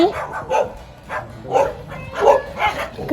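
Street dogs bark on an evening walk: about five sharp, close barks in an uneven rhythm, with short whimpering yips between them and no clear talk.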